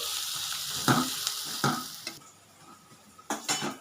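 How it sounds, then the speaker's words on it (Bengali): Onion and green chilli fry in a small wok with a constant crackling sizzle, broken by several sharp scrapes of a stirring spoon against the metal. "দেখো বন্ধুরা পেঁয়াজ আর লঙ্কাটা ভাজা ভাজা হয়ে গেছে"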